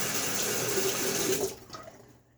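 Tap water running into a sink to rinse during a wet shave with a Gillette Fat Boy razor, a steady close rush that stops abruptly, followed by a few drips and small splashes.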